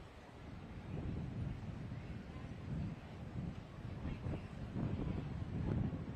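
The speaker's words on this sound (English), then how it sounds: "It is a windy evening in High Point." Wind gusting across an open soccer stadium on a windy evening at a Carolina Core FC versus Chattanooga FC MLS Next Pro match in High Point, a steady low rumbling buffet against the microphone with no clear voices.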